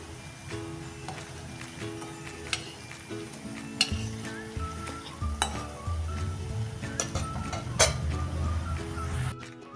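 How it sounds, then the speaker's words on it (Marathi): Butter chakli made from ration rice frying in a second batch of hot oil, a steady bubbling sizzle with intermittent clinks and scrapes of a utensil against the pan. "पहिली बॅच झाल्यानंतर आता ही आपण दुसरी बॅच तळून घेऊया"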